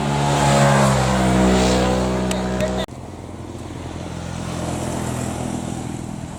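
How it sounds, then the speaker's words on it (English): A motorcycle ridden by a woman on a rural road in Sukhothai, Thailand, runs with a loud, steady engine drone that cuts off abruptly, then a quieter motor hum continues. "I don't trust this woman driving the motorcycle"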